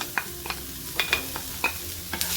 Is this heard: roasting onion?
yes